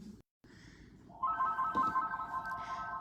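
A telephone rings with a steady electronic trilling tone that starts after a brief quiet moment and continues to the end, fairly close and clear.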